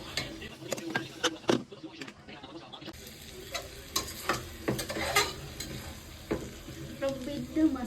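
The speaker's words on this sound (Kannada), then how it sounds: "ಚೆಂದಾಗಿ ಮಿಕ್ಸ್ ಮಾಡಿ ಸ್ವಲ್ಪ ಹಿಂಗೆ ಎಣ್ಣೆ ಬಿಡಂಗ ಕುದಿಯಕ್ಕೆ ಬಿಡಂಬ್ರಿ" Mutton masala with coriander powder being stirred and fried in oil, with a soft continuous sizzle broken by repeated scraping clacks of a spoon against the pan, close and moderately loud; no talking.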